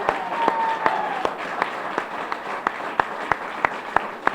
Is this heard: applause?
yes